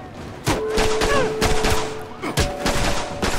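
Rapid, close gunfire fills The Bourne Conspiracy, with repeated shot bursts over a steady background of game sound effects.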